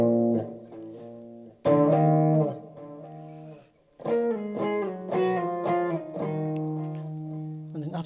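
An electric guitar plays the lead part of Nadie Como Tu with the unused strings muted, giving clean sustained single notes and short phrases with a couple of brief gaps, close and alone.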